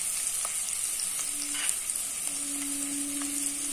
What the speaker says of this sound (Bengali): এর রসুন এবং পেঁয়াজটা আমি ভালোভাবে ভেজে নেব